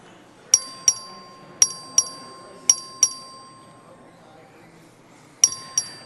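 A bell rung by the clerk of a legislative chamber for a record vote strikes seven times in uneven clusters of bright, ringing dings, each decaying quickly over a quiet room murmur.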